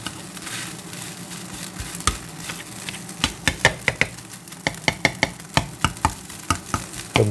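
Egg fried rice with garlic crackles in a pan, a steady sizzle under a run of sharp, regular tapping and scraping strokes from stirring, close and fairly quiet.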